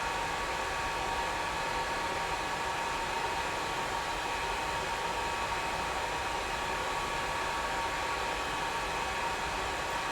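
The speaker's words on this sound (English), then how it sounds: "So I'm gonna blow dry from here," A hair dryer blows steadily and loudly at close range while hair is styled, a continuous airy roar running unbroken throughout with no talking.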